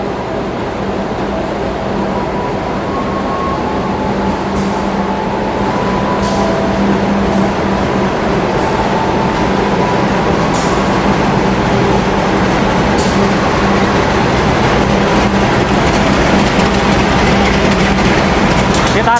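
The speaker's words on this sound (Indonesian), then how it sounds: "Ini dia kereta api Malioboro Express masuk jalur 4 stasiun Solo Balapan." Malioboro Express passenger train hauled by a diesel locomotive arriving at platform 4 of Solo Balapan station at night, a loud continuous rumble of engine and rolling wheels that builds slightly, with faint clicks over the steady roar.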